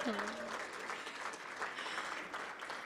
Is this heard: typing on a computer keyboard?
no